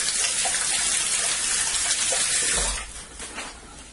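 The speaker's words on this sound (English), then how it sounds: "Let me rinse my hands." Water runs steadily from a kitchen tap as hands are rinsed during preparation of Haitian coquito, a close, continuous splashing gush that eases off slightly near the end.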